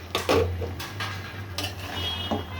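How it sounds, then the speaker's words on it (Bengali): A meat roast is stirred in a cooking pot on a stove: close metallic scrapes and clinks of a spoon against the pot come in irregular strokes over a low, steady hum. "আমি এখন নেড়ে চেড়ে দিচ্ছি।"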